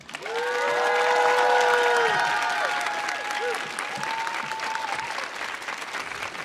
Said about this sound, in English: please clap for Zoe Dorado